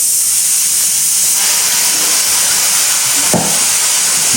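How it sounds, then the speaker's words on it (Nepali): A pressure cooker vents steam in a loud, continuous, close hiss with a steady high whistle-like edge, broken by a brief thump near the end. "कुकरले बोलायो अलि फास्ट जाऊ न"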